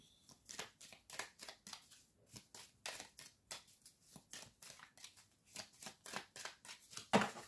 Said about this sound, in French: J'ai réussi à les mélanger sans les faire tomber.